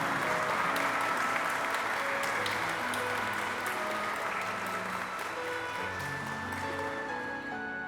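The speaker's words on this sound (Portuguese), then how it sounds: "Uma salva de palmas, eles estão casados." Wedding guests at a church ceremony applaud the newly married couple, dense sustained clapping from a large crowd that fills the room and gradually fades.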